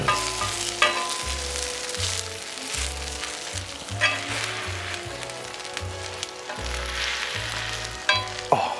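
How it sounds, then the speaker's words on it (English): Cranberry and chestnut stuffing patties fry in butter in a pan with a loud, steady sizzle and crackle, broken by occasional bumps and stirring, no voices. "So we've just put the butter on so we can fry these off, these stuffing patties"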